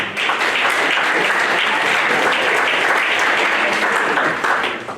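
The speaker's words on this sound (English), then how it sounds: "For a nice round of applause for them." Dense, steady audience applause fills a school winter sports banquet honoring wrestling, a full crowd clapping continuously and loudly throughout, fading slightly at the close.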